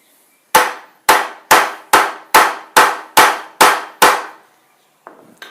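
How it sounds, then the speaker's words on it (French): A hammer tapping a motorcycle front wheel axle into place: nine sharp, ringing metal strikes at a steady, even rhythm, close and loud, each decaying quickly, followed by a faint rustle. "On doit taper avec un marteau."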